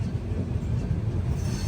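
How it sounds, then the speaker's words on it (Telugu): Train rolling past into Chennai Central: a steady low rumble of wheels and carriages, close and continuous, with no distinct clicks or voices. "ఏదో ట్రైన్ చెన్నై సెంట్రల్ లోపలికి వెళ్తుంది"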